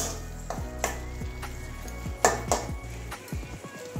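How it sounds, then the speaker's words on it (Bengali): Garam masala being stirred into pointed gourd in a pan: a utensil scrapes and clinks against the metal several times at an irregular pace over a faint sizzle, with no voices. "ভালো করে মিশিয়ে নেব গরম মশলাটা।"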